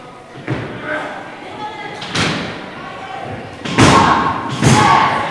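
Pro wrestling match with a wrestler's cannonball splash into the ring corner, heard as heavy thuds and slams on the ring among crowd noise and a commentator talking over it.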